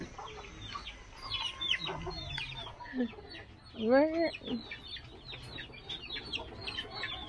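Chickens cluck and squawk at feeding time in a lively, continuous chorus, with one louder rising call midway, while a person speaks briefly.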